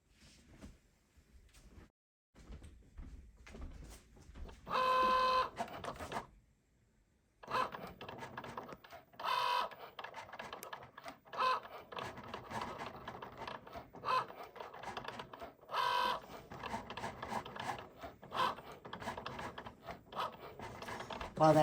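A Cricut Xtra cuts a vinyl car decal close by, giving intermittent bursts of scraping, whirring motion. The bursts are separated by short pauses and one longer silence, with no talking.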